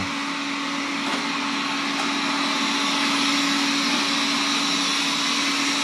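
Alfawise V10 Max robot vacuum mop running close by with a continuous, loud motor whir and broadband airflow hiss, steady throughout with no speech.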